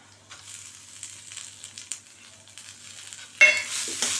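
A spoon stirs peppercorns, cumin, a sprig of curry leaves and a piece of coconut in a pan for village-style sambar. Soft, sparse scrapes and light sizzling grow into a louder, busier stir near the end.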